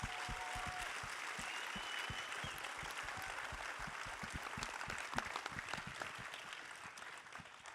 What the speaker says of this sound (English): So please join us in giving them a huge round of applause